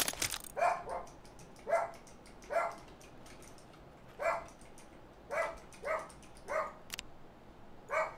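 A small dog barks in the video game Super People, about ten short, evenly spaced yips at moderate distance over a quiet background, with no talk.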